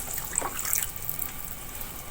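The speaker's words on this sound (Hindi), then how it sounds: "अब मैं उसी का पानी शामिल कर लूंगी" Broth from boiled goat or beef meat poured from a vessel into a pot of potatoes, a soft continuous splashing trickle heard alone for about two seconds.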